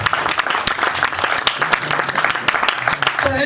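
An audience at a business seminar in Mathura claps for a few seconds, a dense, loud and close burst of applause with a voice speaking over it.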